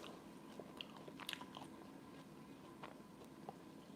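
Crunchy air-fried potatoes are bitten and chewed close to the microphone, giving a few faint, crisp crunches spread over a quiet background.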